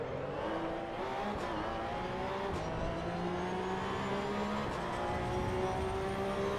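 Porsche Cup race car engine in the Assetto Corsa EVO racing game, a steady droning whine with rising pitch sweeps through gear changes, continuous and fairly loud with faint tire noise.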